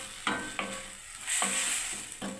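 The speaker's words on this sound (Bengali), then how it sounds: "এবার আমি বন্ধুরা এটাকে কষতে থাকবো এখন" Stir-frying ridge gourd and paneer curry with spices in a pan: a few distinct scraping spatula strokes over a steady, close sizzle.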